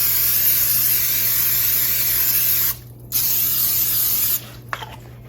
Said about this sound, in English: I'm going to spray both of my pans with some butter flavored cooking spray